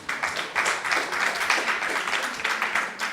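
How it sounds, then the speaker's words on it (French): Applause breaks out for a plated dish of truffles, cured ham and mesclun salad on a French studio set, a lively burst of hand claps that swells and carries on near and loud. "on peut applaudir le plat, mesdames, messieurs"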